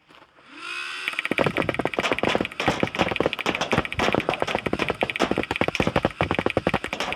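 A video game minigun fires at the player at about fifteen rounds a second, a loud continuous rattle of rapid cracking shots that starts after a brief quieter lead-in and keeps going to the end.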